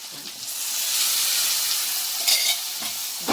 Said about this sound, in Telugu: మనము వేయించుకున్నాం కాబట్టి మసాలాలు ఎక్కువేమి వేగాల్సిన అవసరం లేదండి, కొద్దిసేపు వేగితే సరిపోతుంది